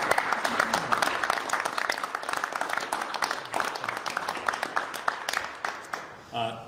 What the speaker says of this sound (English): So I think you deserve a round of applause.